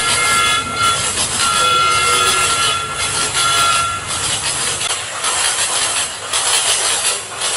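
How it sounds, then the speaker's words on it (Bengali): A cartoon train sets off and keeps rolling, a loud, steady rumble and clatter of wheels on rails with a sustained horn tone running through the first few seconds, heard alone without voices. "অবশেষে ট্রেন চললো"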